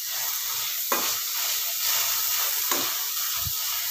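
Vegetables for pav bhaji cook in a pan over low heat, giving a steady close sizzle with a few brief scraping stirs of a spoon against the pan.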